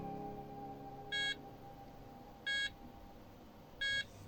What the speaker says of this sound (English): a sound signal is emitted from the piezo emitter